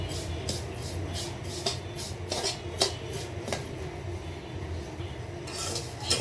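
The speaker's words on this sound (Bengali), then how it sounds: "এলাচ আর তেজপাতা দিয়ে সেমাইটাকে লাল করে ভাজবো।" Vermicelli fried in ghee with cardamom and bay leaf is stirred in a metal pan, giving repeated scraping and clinking strokes over a low, steady frying rustle.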